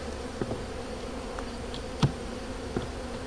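Honeybees in a robbing frenzy around hive splits in mid August make a dense, steady buzzing swarm close by, with a few individual bees zipping past near the listener.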